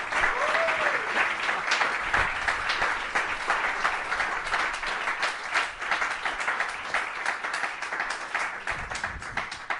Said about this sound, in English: Please give an applause to this beautiful round.